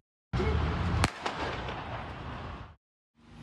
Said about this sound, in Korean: 차량이 출발하자 총소리가 울립니다